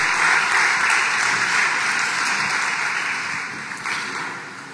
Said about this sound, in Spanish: démosle un gran aplauso a nuestro Señor